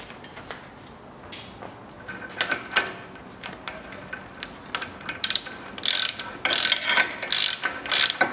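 A hand ratchet clicks rapidly while tightening the drive shaft nut on a Citroen C-Crosser 2.4 during an inner CV boot replacement. Bursts of close, crisp pawl clicks come in uneven runs that grow louder toward the end, with no speech.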